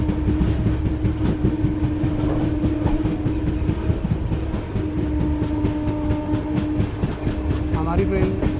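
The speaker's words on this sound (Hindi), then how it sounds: "हमारी ट्रेन समराला के आउटर पे पहुंच चुकी है।" The 14505 Nangal Dam Express runs on rails near the outer signal at Samrala, with a continuous heavy rumble, rhythmic clickety-clack of wheels over joints and a short tonal sound near the end.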